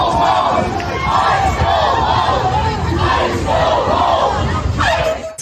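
A large crowd of residents shouts and yells at about a dozen ICE agents at the Columbia Heights Metro Station, a loud, continuous wall of voices with rising, overlapping cries throughout.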